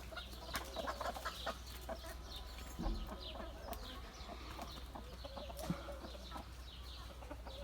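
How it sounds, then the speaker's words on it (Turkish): Hens cluck and chatter in short, scattered bursts close by, with faint bird calls and a low steady hum underneath. "Yine tavuğumuz bu da."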